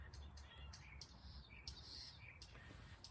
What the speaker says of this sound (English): The birds have been chirping this morning.